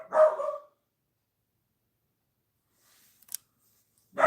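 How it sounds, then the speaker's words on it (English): Yoda the dog barks nearby: one gruff bark at the start, a brief small click in the quiet stretch, then a second bark at the very end. "He's barking."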